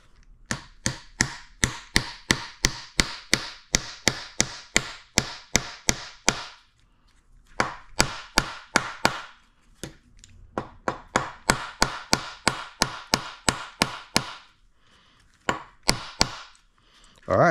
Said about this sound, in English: Let's see if we can pound that in there. Hopefully that works. I'm gonna use a metal hammer here.